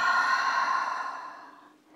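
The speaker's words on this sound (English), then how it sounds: "and then exhale through the mouth." A long, steady exhale through the mouth during yoga breathing, close and breathy, fading gradually over about two seconds with no speech.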